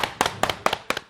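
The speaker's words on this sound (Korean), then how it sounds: "박수로 청해 듣습니다" Audience in a Korean morning TV studio clapping to welcome a trot singer's song: four or five short bursts of claps at a steady, moderately loud pace with no talk.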